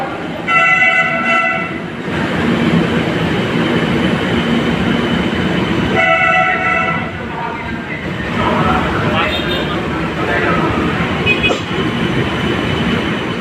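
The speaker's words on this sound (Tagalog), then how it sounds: "This train is going to Taft Avenue" An MRT-3 metro train bound for Taft Avenue rumbles steadily along the track with a rushing, clattering roar, while a recorded voice speaks and brief tonal chimes sound over the noise.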